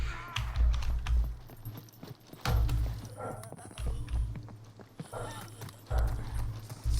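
Donkey in the video game SCUM, braying and snorting in rough bursts amid clopping hoof-like thumps, fairly close, with someone talking over parts of it.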